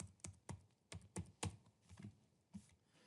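A computer keyboard is tapped as a number is typed: about nine crisp, separate keystrokes in an uneven rhythm, close and quiet, with no talking.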